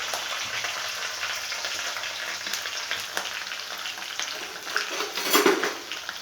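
Garlic frying in hot oil in a home kitchen, a steady close sizzle with occasional stirring and clinks of a utensil against the pan.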